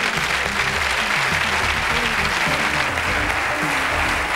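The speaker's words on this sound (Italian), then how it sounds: "Adesso riposate le vostre mani anchilosate dagli applausi" A studio audience on a 1996 Canale 5 game show, Vinca il Migliore, applauds steadily and loudly, a dense unbroken clapping that fills the room throughout.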